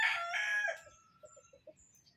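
A rooster crows loudly and close on a farm, one long harsh call fading out, followed by a few short, softer clucks from the chickens against quiet background noise.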